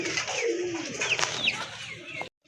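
Fancy pigeons offered for sale coo in soft, rolling calls close by, several short warbling coos overlapping over a couple of seconds before cutting off.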